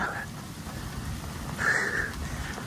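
Light drizzle falls along a quiet residential street with a sidewalk, making a soft, steady hiss throughout, with a brief faint sound rising above it near the end.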